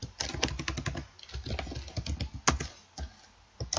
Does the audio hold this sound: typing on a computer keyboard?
yes